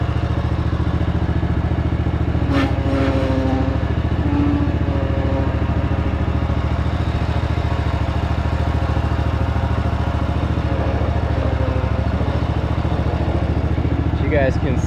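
A riding lawn mower engine idles steadily and loud up close, a constant low throbbing drone with occasional clinks and rattles over it.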